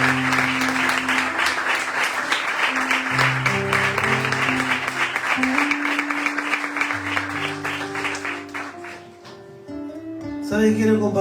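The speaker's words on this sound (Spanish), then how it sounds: "Vamos a darle un aplauso a Mauricio para recibirlo" A church congregation claps steadily for several seconds while music plays underneath, and the clapping fades out near the end.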